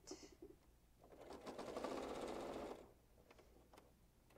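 A sewing machine runs a steady stitching burst on a reversible placemat, starting after a few short taps and then stopping, quiet and close, with no talk over it.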